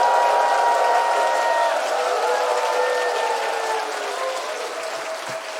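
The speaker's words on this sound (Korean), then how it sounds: "우리 이재문 목사님 나오실 때에 하나님께 영광의 박수와 함께 함성과 함께 강사님 모시겠습니다." Church congregation at a Chuncheon evangelism rally welcoming the speaker with sustained applause and cheering, loud at first and gradually tapering, with sustained tones running through it.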